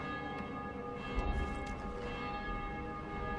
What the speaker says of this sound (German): Läuten da jetzt Glocken?